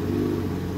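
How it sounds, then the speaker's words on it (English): A Lamborghini Countach engine with stock exhaust runs with a deep, loud, close rumble and a strong low tone, brief and steady, with no talking. "Fire this beast up."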